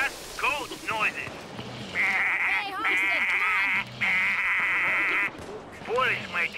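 Bleating goats sound in the video game Payday Goat Simulator, several long wavering bleats near and loud, with shorter cries between them.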